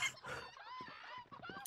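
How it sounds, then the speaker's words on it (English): A chicken clucking and squawking in the video game Hand Horror Simulator, a close, agitated run of calls with a brief crowing-like cry. "There's a chicken attacking you."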